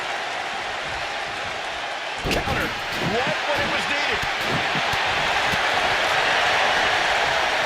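Crowd noise from the wrestling video game WWE 2K25: a dense, steady roar of cheering with sharp thuds from the ring, under continuous commentary.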